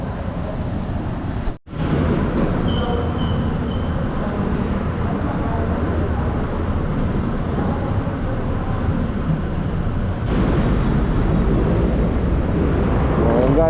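Loud, steady rumble of an LRT light rail train in motion in Cubao, heard from inside or close by, with a brief dip early on and continuous rolling noise throughout.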